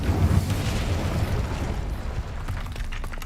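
An Incendio fire spell in Hogwarts Legacy erupts as a loud, dense roaring whoosh of flame, heaviest at the start and tapering into a crackling rumble over a few seconds.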